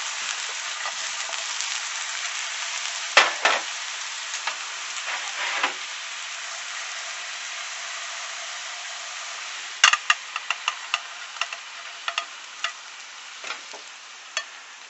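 Canna roots and aromatic herbs are tossed and fried in a pan, giving a steady hissing sizzle with a few louder bursts of clattering stirring and scraping, close up and without talk.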